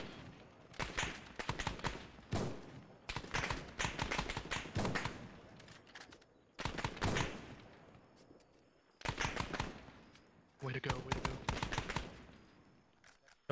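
Bursts of rapid airsoft gunfire during a milsim game come in several sharp, dense volleys, each lasting a second or two. Short near-silent gaps separate them, with a few isolated shots between.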